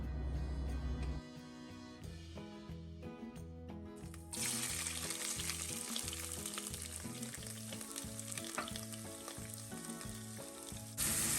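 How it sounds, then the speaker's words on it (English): Seasoning sautés in olive oil in a pot for a Jamaican vegan Ital stew, a steady sizzle and crackle that grows louder partway through and continues alone under music. "We're going to allow this to saute for about 2 to 3 minutes."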